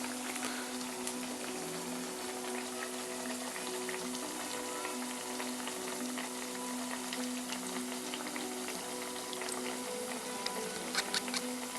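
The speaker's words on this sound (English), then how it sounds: "The bubbles is the water and the vapor that exits the banana." Sweet banana fries in a pan as its moisture boils off, a steady, dense sizzle and fine crackling bubbles that continue evenly throughout at moderate loudness.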